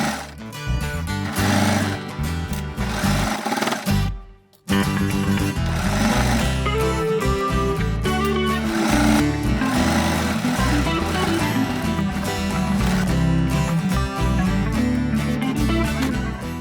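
A sewing machine stitches fabric cut from an old shirt, running in a fast, steady mechanical chatter close by, with one brief stop around four seconds before resuming continuously.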